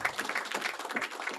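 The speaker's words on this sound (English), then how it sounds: "give the Ministry of Sports and the government of Grenada a lusty round of applause" A crowd at the launch of an adaptive sports alliance in Grenada gives a round of applause, steady dense clapping throughout.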